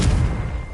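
A Confringo blast spell cast in Hogwarts Legacy: a single loud, close burst that booms at the onset and then rumbles briefly as it decays.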